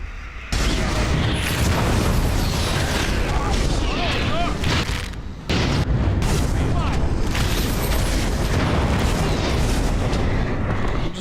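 In the video game Dragon Age: Origins, a loud explosion booms and rumbles. The sound breaks off briefly and then resumes with a sustained roar, with speech heard over it.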